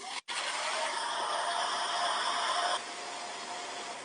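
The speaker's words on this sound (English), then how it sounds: "We get to listen to a hairdryer." A hairdryer runs with a steady whirring hiss for a few seconds after a brief dropout, then cuts back to a quieter, lower hum before the end.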